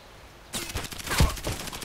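Gunfire crackles in the shooter game Contract Wars, a sudden close burst of rapid shots lasting about a second and a half.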